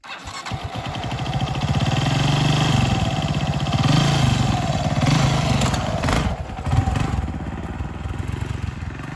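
A Honda NX200 motorcycle that has been upgraded idles close by, a steady, mid-pitched engine rumble that holds on throughout with slight surges and little talk.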